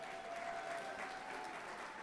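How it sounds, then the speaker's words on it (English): Guests at a charity gala auction give a soft, distant round of applause for the bidders, a thin continuous patter of clapping with a faint tonal hum beneath it. "Can I get a round of applause for all of our bidders tonight?"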